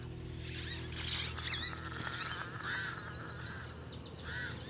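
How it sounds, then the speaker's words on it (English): Pied crows mobbing a caracal in the Namib desert, giving a run of harsh, squawking calls in bursts over a steady low background hum. "Pied crows mob her."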